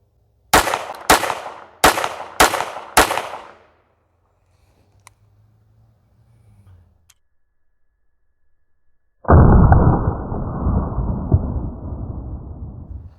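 Five sharp, evenly spaced shots of Federal Punch .22LR from a small Walther PPQ pistol, loud and close, followed by quiet, then a burst of broad rumbling noise.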